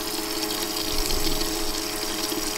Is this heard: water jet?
yes